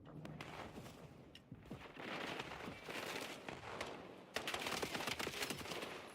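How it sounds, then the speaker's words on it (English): Pistol shots crack in quick bursts during a first-person shooter esports match, fairly faint under a busy game mix with crowd-like noise, several sharp reports scattered across the stretch. "Clean pistol shots there."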